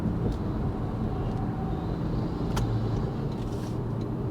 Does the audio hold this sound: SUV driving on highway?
yes